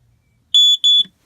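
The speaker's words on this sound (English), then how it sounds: "We've got a smoke alarm that was fitted" Two sharp, high-pitched electronic beeps from a smoke alarm in a caravan, short and loud, in quick succession before falling silent.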